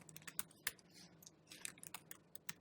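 Quiet, irregular keystrokes on a computer keyboard while a command is entered, with clustered taps and short pauses, close and isolated.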